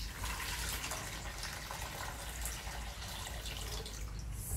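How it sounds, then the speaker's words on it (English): Water is poured into a pot of sugar, a steady broadband splash and trickle running continuously at low level with no voices. "then we'll put water in the middle"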